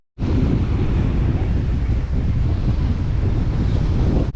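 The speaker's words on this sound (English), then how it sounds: "Wow, just look at the wind here in this station here." Strong wind in Aruba buffets the microphone with a loud, continuous low roar and rushing noise that barely lets up.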